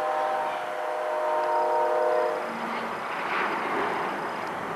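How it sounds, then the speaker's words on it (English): A short, light freight train with two locomotive units passes at a distance, heard as a steady broadband rumble with a sustained horn-like tone that fades out partway, mixed with wind noise. "Two units in a short light train, he'll fly down the track."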